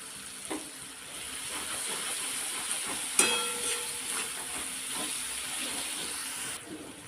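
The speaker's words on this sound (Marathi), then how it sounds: "आपलं लसूण तळलेला आहे ठेचा पण तळून घेतलेला आहे" Garlic and chili thecha fry in hot oil, giving a steady soft hiss and sizzle with a few sharper crackles, heard close and without talking.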